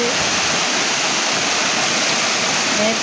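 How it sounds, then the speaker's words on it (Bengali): Steady rain with some wind in Noakhali, Bangladesh, forms a dense, loud, even wash of noise that continues without a break and with no clear voices. "বন্ধুরা নোয়াখালী অনেক দিন পরে বৃষ্টি হইতেছে, দেখো সাথে একটু বাতাসও আসছে"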